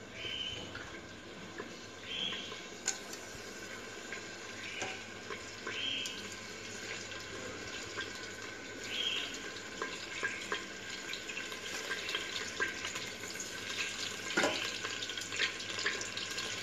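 Biryani leaves are rinsed by hand in a little water, giving soft splashing and trickling with occasional light clinks, fairly faint and continuous throughout.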